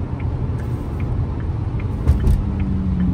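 A McLaren Artura with a V6 hybrid engine being driven, heard from inside as a steady low engine rumble and road noise, with a faint bump partway through.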